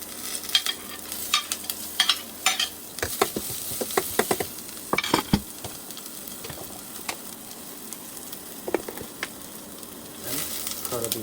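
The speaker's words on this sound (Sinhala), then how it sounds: "සුදු ලුණු ටිකක් දාගන්නවා" Garlic sizzling and frying in a pan while being stirred, with a steady hiss and scattered clinks and scrapes of a spoon against the pan, close and moderately loud.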